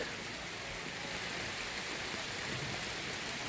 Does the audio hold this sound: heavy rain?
yes